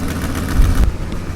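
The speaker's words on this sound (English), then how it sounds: "Maybe a little bit of an exhaust tick, but might be more of a lifter tick" A car engine idling up close, a steady low rumble with a faint rapid ticking running through it, an exhaust or lifter tick.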